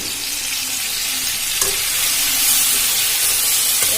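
Spice paste for a chana dal sizzles and fries in a pan as it is stirred, a steady, close hiss with a few soft scraping touches throughout.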